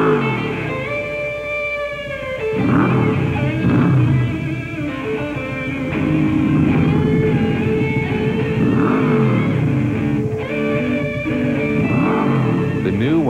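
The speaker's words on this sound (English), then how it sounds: "The new 145 horsepower V-Max from Yamaha is like no other motorcycle you've ever seen before." A 145-horsepower Yamaha V-Max motorcycle engine revs repeatedly, rising and falling in pitch, loud and close, with speech-like sounds mixed in throughout.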